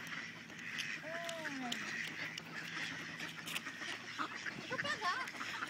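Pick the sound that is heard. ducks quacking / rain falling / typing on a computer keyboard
ducks quacking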